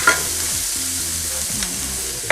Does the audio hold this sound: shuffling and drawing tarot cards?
no